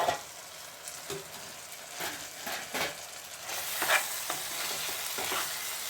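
A spoon stirs Telangana-style tomato and moong dal curry frying in a pan, giving a soft, steady sizzle broken by close scraping strokes of the spoon, with no voices.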